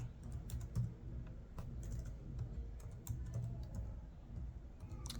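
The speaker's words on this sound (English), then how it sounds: "I'm just typing so it will be easy." Computer keyboard typing while writing HTML code, a steady run of close, crisp key clicks with irregular rhythm and occasional louder strikes over a low room hum.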